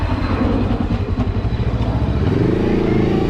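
A Hanway YP500 motorcycle engine pulls under throttle with a steady, rough, uneven drone that pulses and surges, its pitch shifting slightly upward near the end, close and loud with no talk.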